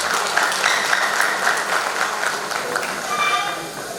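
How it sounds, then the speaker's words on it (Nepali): Applause from the audience at the annual general meeting of the Distributors' Association of Nepal, a dense, steady clatter of clapping that holds for the whole stretch and fades slightly at the end. "उहाँलाई पुनः एकपटक जोरदार तालीले सम्मान गरौँ।"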